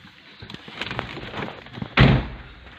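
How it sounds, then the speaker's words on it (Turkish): A single solid thump of a Renault car door shutting, preceded by low rustling and handling noise. "kapıyı kapattım"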